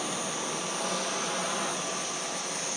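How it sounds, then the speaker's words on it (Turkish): A Dyson V12 cordless vacuum cleaner runs continuously with a loud, steady high-pitched whine and airy rush, close and unbroken throughout. "Tek elle hem video çekip hem süpürebiliyorum yani."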